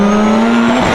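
Mazda RX7 rotary engine driving past, a loud steady engine tone holding one pitch for a brief moment before it drops off.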